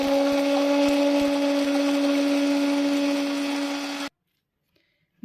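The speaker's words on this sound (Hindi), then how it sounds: "तो चलें व्यूअर्स, इसको ग्राइंड करते हैं" An electric grinder whirs continuously, loud and steady, as it grinds beef tikka spices, then cuts off abruptly and leaves near silence.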